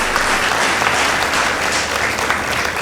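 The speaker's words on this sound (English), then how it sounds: "Let's give them a round of applause." Steady, loud applause from a large audience at a Makueni Boys High School versus Machakos Academy contest, continuous clapping filling the room with no pauses.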